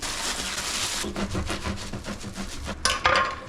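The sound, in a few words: cutting bread with knife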